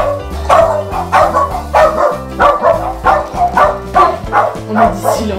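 Several dogs bark in a steady, repeated rhythm, loud and close, with yips mixed in and a bit of talking underneath.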